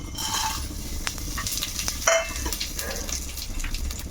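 Cumin, pepper, cloves and cinnamon drop into a hot pan for paneer pulao, giving a soft steady sizzle with light clinks and a stirring scrape, fairly quiet and close.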